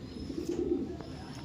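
A Janssen Arendonk racing pigeon, a young island-born bird, coos softly in a low, rolling murmur close to the listener, steady through the brief moment.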